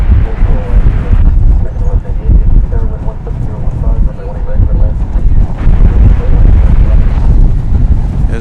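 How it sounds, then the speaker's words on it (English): Strong gusty wind buffets the microphone at a busy airport, a loud continuous roar with surging gusts, and a voice talks over it. "As the wind really picks up, it feels like it's about 25 miles an hour currently, maybe more."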